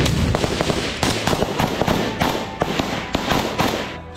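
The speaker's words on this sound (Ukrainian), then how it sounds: "Граната пошла в блиндаж" Blasts from a grenade thrown into a bunker during a frontline assault, with a rapid series of sharp, loud cracks and bursts repeating over several seconds amid dense, noisy background.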